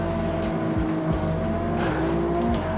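A manual BMW 1M drifts in an Xbox racing game, its engine revving up and down through gear changes while the tires squeal, loud and continuous.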